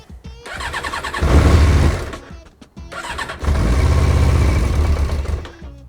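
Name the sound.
motorcycle engine cranking but not starting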